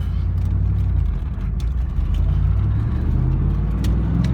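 A 1996 Pontiac Firebird Formula engine rumbling and revving from inside the car, with a steady, loud low drone and slight swells in pitch, and no talk over it.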